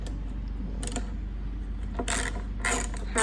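A hand ratchet with a half-inch socket works on the fiberglass top bolts of a Toyota Land Cruiser 70 Series, several quick clicking bursts over a low steady background rumble.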